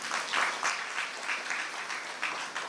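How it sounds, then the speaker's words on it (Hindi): An audience claps together at a spiritual meditation class, a steady, fairly soft round of applause with no voices over it. "तालियां तो बजाओ भाई।"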